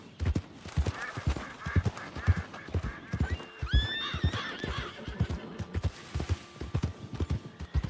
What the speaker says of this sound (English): Another horse I heard?